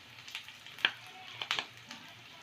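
Turmeric and chili powder frying in a pan for egg fried rice give a faint, steady sizzle, broken by a few sharp scrapes and taps of stirring.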